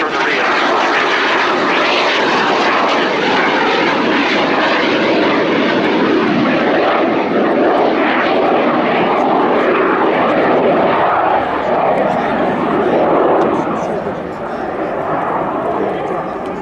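A Fouga CM175 Zephyr naval jet, arrestor hook dangling, roars past at an air show, loud and close as it sweeps by, with a commentator talking over the engine noise.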